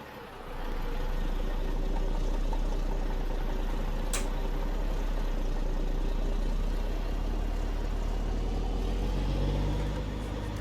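A rebuilt Peterbilt 359 truck in American Truck Simulator cranks and starts its heavy engine, then settles into a loud, steady, low diesel idle rumble, close and continuous, with no one speaking.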